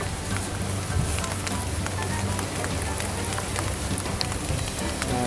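Steady rain falls outdoors beside a GMC Sierra truck, making a continuous dense hiss with scattered drip ticks throughout and no voices.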